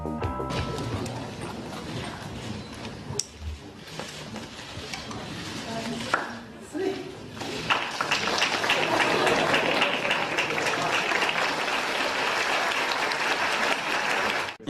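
A crowd greeting French president François Hollande as he walks through a town, with a loud, dense mass of cheering and applause swelling in the second half, plus scattered shouts and speech-like voices throughout.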